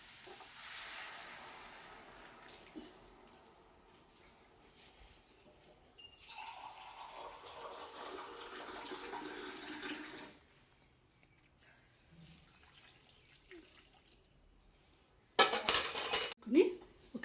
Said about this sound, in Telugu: ఇప్పుడు ఈ కర్రీలో సరిపడిన వాటర్ వేసుకుందామండి